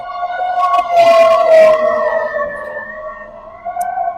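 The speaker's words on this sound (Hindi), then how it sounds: "मेरे सामने देखते देखते 3, 4, 5 बड़े बड़े ट्रक जो हैं फायर ब्रिगेड के along with several police vehicles दौड़ते हुए जा रहे हैं" Several fire brigade trucks and police vehicles race past on a city street, their wailing sirens loud and close, rising and overlapping before easing slightly as they move on.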